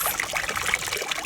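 Water trickling and pouring from various shaped and sized pots during children's water play, a light continuous splashing dribble at close range with no talking.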